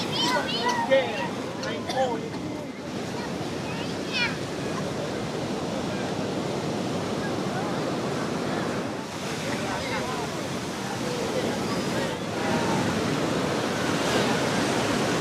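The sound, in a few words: large ocean waves on beach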